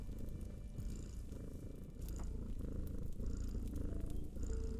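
A steady, low rumbling cat purr continues throughout, close and fairly quiet, with faint rustling in the background.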